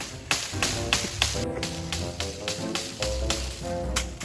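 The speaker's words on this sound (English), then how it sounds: "I'm thinking about doing possibly a few little tree knocks." Sharp wooden knocks on a tree out in the woods, struck about a dozen times in an uneven series, each crisp and fairly close, with no talking.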